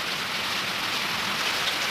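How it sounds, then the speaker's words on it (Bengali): Heavy continuous rain pours down outside a house, a dense, even hiss of drops on surfaces with no pauses and no voices. "দেখো সমানে বৃষ্টি"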